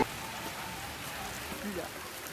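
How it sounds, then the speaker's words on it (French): Steady rain hisses broadly and evenly throughout, a constant wash of drops falling on a surface nearby. "Notre première pluie."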